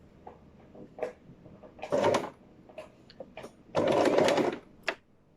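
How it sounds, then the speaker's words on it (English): A sewing machine stitches a zip with black thread in two bursts of steady whirring, each about a second long, separated by quieter clicks and handling noises, close by with no talk. "I'm going to start sewing."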